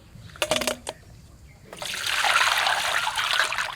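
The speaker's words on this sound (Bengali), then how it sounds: "ইলিশ মাছ তো বেশি ধুতে হয় না এখান থেকে দুই একবার ধুয়ে নিয়ে যাব" Cut hilsa fish pieces are rinsed in water after a few clinks of utensils, with a steady splashing and trickling wash that fills the rest.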